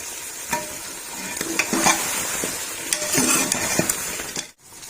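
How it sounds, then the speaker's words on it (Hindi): Beef trotters sautéing with tomatoes in ghee, with a steady close sizzle broken by irregular stirring scrapes and light clinks of a utensil against the pot, then a brief drop to near silence at the end. "घी इस तरह से हमने इतना भून लिया है"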